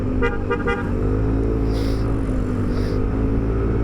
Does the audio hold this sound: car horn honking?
yes